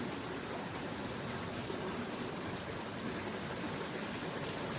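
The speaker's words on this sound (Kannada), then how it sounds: "ಇಲ್ಲಿ ನೀರು ಹರಿತಾ ಇರೋದು" Steady rushing of stream water flowing over rocks at Thonnur Kere, Pandavapura, Mandya district, a continuous broadband wash filling the whole clip with no voices.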